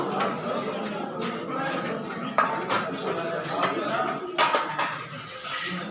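Plate and spoon picked up in a canteen serving line, with a few light clinks and clatters of dishes and cutlery, close by and partly masked by a steady background hum and murmur of people talking.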